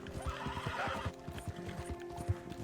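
A horse in a video game gallops with quick rhythmic clip-clop hoofbeats while letting out a whinny, fairly faint and steady throughout.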